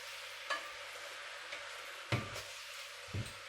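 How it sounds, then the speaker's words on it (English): Coconut cream simmers and thickens in a pan, giving a quiet, steady sizzle with a few soft clinks and scrapes of a utensil stirring now and then. "So I'm going to cook that down a little bit"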